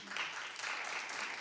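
A talk show studio audience applauds, a dense wash of clapping heard steadily throughout the short moment at moderate distance.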